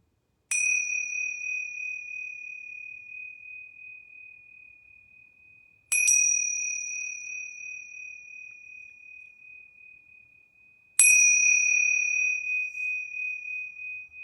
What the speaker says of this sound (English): So I'm going to ring these yoga bells very deliberately 3 times.